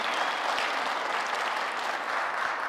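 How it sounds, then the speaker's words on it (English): An audience in a church claps, a dense and steady round of applause that carries on without a break and has no speech over it. "probably you should applaud to yourself"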